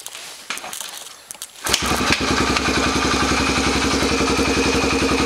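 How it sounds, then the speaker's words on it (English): A Yamaha TTR125 dirt bike with its exhaust baffle removed is kicked over a few times and then fires up, settling into a loud, rapid, close-up idle with a steady thumping beat. "Let's see if I can kick it off and show this on the camera."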